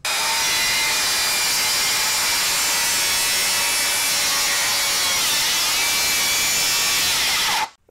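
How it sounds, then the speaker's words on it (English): A Makita 36V 7-1/4 inch cordless circular saw plunge-cuts into a pressure-treated 4x4, giving a loud, steady, close-up cutting roar that holds for about seven seconds before stopping abruptly. "Let's do a plunge cut first here in a treated 4x4"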